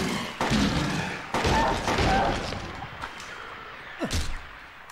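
Handgun shots in Silent Hill 2 land as several heavy, muffled thuds, two or three strong reports early and a few weaker ones later, each followed by a short decay.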